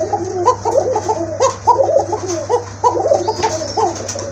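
Fancy pigeon cooing up close, a steady run of soft, throaty, rhythmic coos repeating over a low background hum.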